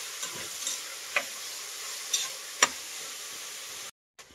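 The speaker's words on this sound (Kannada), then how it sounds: "ನೋಡಿ, 2 ಟೊಮೆಟೊ ಹಾಕ್ತಾ ಇದ್ದೀನಿ. ಉದ್ದುದ್ದು ಕಟ್ ಮಾಡಿ ಸಣ್ಣದಾಗಿ. ಇದು ಅಷ್ಟೇ ಫ್ರೈ ಮಾಡಿ" Two thinly sliced tomatoes fry quietly in a pan, giving a soft steady sizzle broken by a few sharp stirring clicks, with no one talking.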